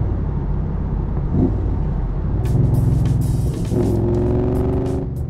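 A Southern Roadcraft Cobra with a five-speed gearbox cruises in fifth gear at about 50 mph and 1500 rpm, giving a steady, low engine drone with some road and wind noise rising toward the end.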